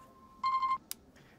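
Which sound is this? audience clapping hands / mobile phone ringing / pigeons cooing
mobile phone ringing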